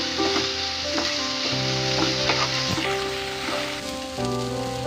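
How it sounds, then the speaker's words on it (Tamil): Grated coconut and roasted gram sizzle steadily as they are sautéed for kadhambam chutney, with a constant frying hiss and occasional scraping strokes, close up, and faint sustained tones beneath. "அது கூடவே ஒரு அரை கப்பு தேங்காய், ஒரு 1/4 கப்பு பொட்டுக்கடலை இதை சேர்த்திட்டு இது ஒரு 5 நிமிஷத்துக்கு நல்லா வதக்கிடுங்க."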